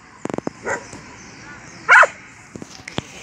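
A dog barks in short sharp bursts, close and loud, with a quick string of yips early on and one stronger bark in the middle, among children and other dogs.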